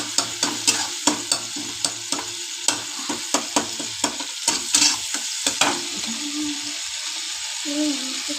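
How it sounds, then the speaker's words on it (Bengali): Onion and chilli frying and being stirred in a pan for an egg and potato posto dish, with a steady sizzle and a series of sharp, regular scraping or clinking strokes that die away in the last seconds. "আর এই যে এখানে পেঁয়াজ আর লঙ্কা ভাজছি।"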